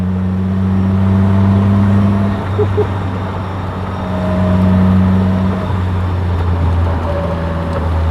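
Caterham Seven 420R sports car engine droning loud and close, holding steady tones that shift pitch with throttle and gear changes.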